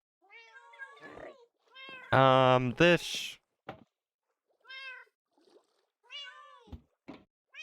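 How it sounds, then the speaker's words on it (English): Several cats in the video game Minecraft meow in short repeated calls, some close and loud, others softer, with brief gaps between them and a voice speaking briefly. "I have an aquarium with cats."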